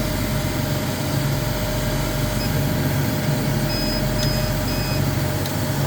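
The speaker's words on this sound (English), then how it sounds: "I'll wait for the compressor to stop" An air compressor runs steadily beside a CO2 laser cutter, giving a continuous loud mechanical drone and hum with no break and no voices.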